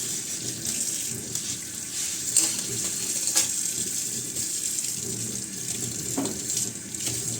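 Tap water runs steadily while soap is rinsed off guitar strings, a close, continuous splashing hiss with small shifts in flow and no talking.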